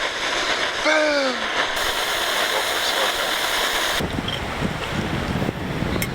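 Strong gusting wind roars across the microphone outdoors in a forest campsite in Algonquin, a steady broadband rush that swells and shifts throughout, with a brief whistling tone near the start.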